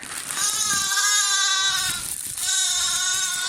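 Hungry lambs crowd at a barn door before bottle feeding, bleating loudly and close by in long, overlapping, quavering cries that carry on almost without a break.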